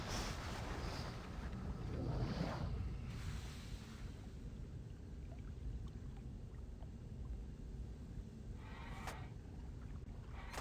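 Water draining through a pipe in the puzzle game Riven: a steady, low rushing wash that continues throughout at moderate volume, with a few faint metallic clinks over it.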